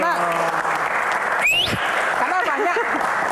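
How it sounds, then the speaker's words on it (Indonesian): An audience at a Q&A event on legal protection for victims applauds steadily throughout, with a dense wash of clapping, faint voices and cheers rising over it and a brief whistle-like sound in the middle. "Tepuk tangan dulu."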